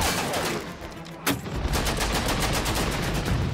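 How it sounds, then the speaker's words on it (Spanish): Rapid gunfire striking an armoured ship's wheelhouse in a World War II battle reconstruction, a dense continuous rattle of shots and impacts with one sharper crack partway through, loud and unbroken. "La timonera blindada está recibiendo fuertes impactos por todas partes."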